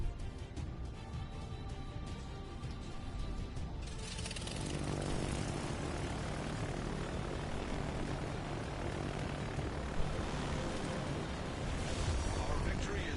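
A whole complement of bomber aircraft engines drone steadily in the World of Warships Legends naval game, a broad continuous roar that thickens and grows louder after a few seconds.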